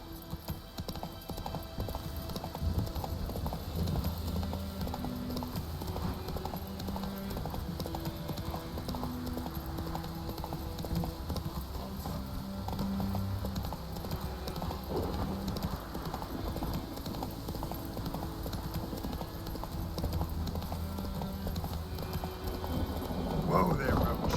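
Roach, the horse in The Witcher 3: Wild Hunt, gallops with rapid, rhythmic hoofbeats clip-clopping over the ground, steady and continuous from start to finish beneath game music and a low rumble of ambience.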